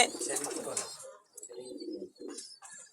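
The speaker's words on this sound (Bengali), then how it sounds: "কোয়ালিটিফুল কবুতর" Golden pigeons call and coo in short bursts, a busy flurry at first, then softer separate calls with brief pauses between them.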